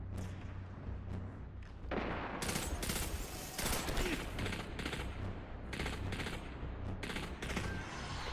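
Rapid gunfire from a weapon in the Destiny 2 shooter: a steady, dense stream of shots and bursts, fairly faint overall, with no talk.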